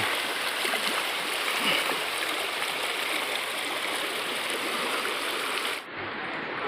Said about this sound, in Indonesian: Ini air dari Sungai Tamiang itu langsung menerjah masuk ke pemukiman warga.